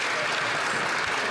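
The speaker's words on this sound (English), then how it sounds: "Got to give him some applause." Steady, dense applause from many hands fills a parliament chamber at the end of question period, continuous and fairly loud throughout with no clear breaks.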